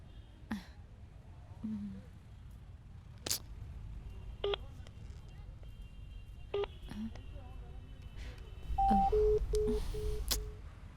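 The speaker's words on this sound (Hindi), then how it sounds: "अभी फोन करती हूँ उसको" A telephone keypad being dialed, with a quick run of short electronic beeps near the end after a stretch of faint handling noise and quiet room sound.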